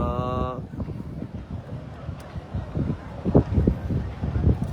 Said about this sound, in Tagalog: So grabe jud ka hangin.